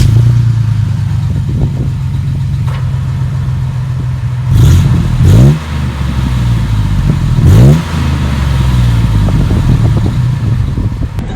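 A 2006 Chevy Silverado pickup with a full Barlow exhaust idles with a deep, loud burble, then revs sharply twice in quick succession before settling back to a steady rumble.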